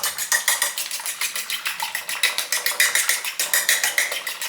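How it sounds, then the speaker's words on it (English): Egg whisked briskly in a bowl for French toast, a steady fast rhythm of clinking strokes against the bowl, close and fairly loud with no talking. "so I'm just whisking the egg"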